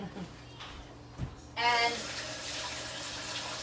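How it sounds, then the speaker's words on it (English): A kitchen tap starts running for hand washing, a steady, close hiss of flowing water that begins abruptly after a short stretch of talking and continues to the end. "let me go ahead and wash my hands"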